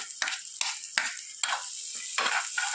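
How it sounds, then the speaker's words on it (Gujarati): Onions sauté in melted butter inside a pressure cooker, bursts of crackling sizzle rising and fading in an uneven rhythm as they are stirred. "બટર નાખી દીધું છે. હવે જે અત્યારે આપણે ડુંગળી નાખીએ"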